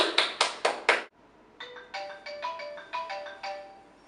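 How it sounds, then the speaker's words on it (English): A cell phone rings in a quiet room: a few loud, bright electronic tone bursts in quick rhythm, then after a brief gap a softer melodic ringtone pattern of repeated chimes, with no talk. "Cell phone."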